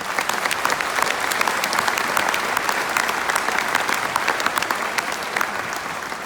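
A graduation audience claps to welcome a speaker to the podium, dense, steady applause from a large crowd lasting the whole stretch without letting up.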